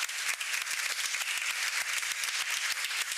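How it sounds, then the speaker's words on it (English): A hall audience at a coding round table in a congress palace gives a loud, dense round of applause, steady crowded clapping filling the whole few seconds without talk. "Let's give an amazing applause to this round table."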